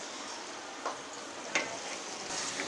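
Chopped onions frying toward light brown in a pan for a spicy Bengali chicken gravy, a soft continuous sizzle with a couple of faint utensil taps, no voices.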